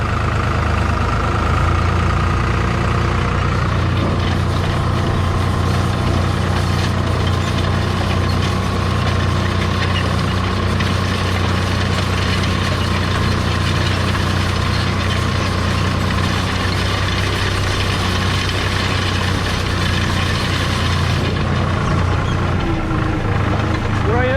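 A New Holland TD65 tractor engine rumbles low and steady throughout while pulling an Özdöken 18-row seed drill, a constant drone with no pauses.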